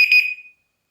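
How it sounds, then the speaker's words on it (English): A Dogtra 2700 T&B dog training collar gives one short, loud, shrill locate beep that cuts off after about half a second, followed by silence. "But the volume can be set of how loud you want your beeper."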